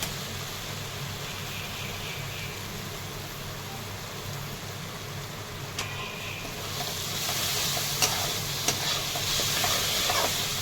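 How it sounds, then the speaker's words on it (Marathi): Chopped garlic, ginger and green chili with turmeric for onion dal sauté in a pan with an even sizzling hiss that grows brighter partway through, broken by a few sharp stirring clicks, close and with no talk. "लसूण अद्रक आणि हिरवी मिरची हे जे बारीक करून घेतलंय ना हे टाकून घेते मिक्स करून घ्यायचे छान परतून"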